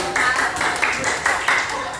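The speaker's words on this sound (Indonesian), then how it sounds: "tepuk tangan buat kita" A classroom of students clapping their hands together in a maths lesson, a short burst of several uneven group claps heard close and fairly loud.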